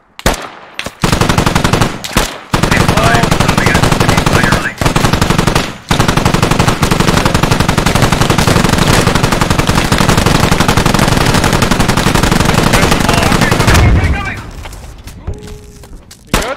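Sustained machine gun fire in the military shooter game Squad, a loud near-continuous roar of rapid shots with a few brief breaks, fading out toward the end, with raised voices mixed in.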